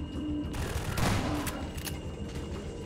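Gunfire volley in the Half-Life video game, a dense burst of overlapping shots peaking about a second in, then trailing crackle and a few scattered reports, loud and close, no talk.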